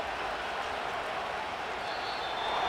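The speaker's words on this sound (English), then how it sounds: "The crowd's not doing that O-line any favors" A stadium crowd from a Madden 25 football game, Denver Broncos at Seattle Seahawks, roars as a steady, dense wash of noise that holds through the whole stretch and swells slightly toward the end.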